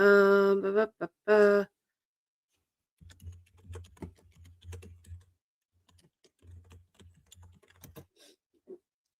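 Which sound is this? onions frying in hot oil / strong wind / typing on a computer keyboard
typing on a computer keyboard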